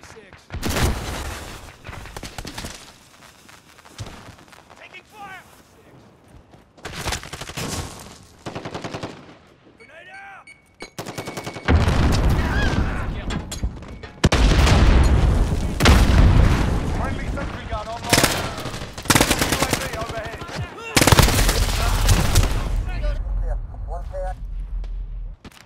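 Gunfire in a Modern Warfare team deathmatch on Xbox Series X: loud bursts of automatic fire and booming blasts come in clusters, with quieter gaps between them and a voice calling out during the action.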